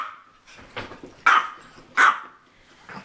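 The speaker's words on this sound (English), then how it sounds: "Why are you barking?" A dog barks and growls close by, a few low grumbles followed by two sharp, loud barks and a softer one at the end, with no talk.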